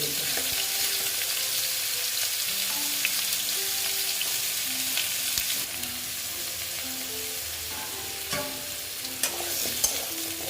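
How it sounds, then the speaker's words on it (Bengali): Pumpkin pieces fry in hot oil in a pan, giving a steady, close sizzle with occasional scraping and stirring clatter, and no talk. "ভালো মতন আবার ভেজে নেবো এগুলোকে"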